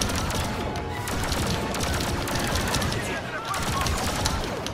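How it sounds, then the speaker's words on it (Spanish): Rapid blaster fire in a Star Wars Battlefront II battle against Stormtroopers, a dense continuous barrage of shots with crashes over busy game noise, while voices talk throughout. "ya están disparando"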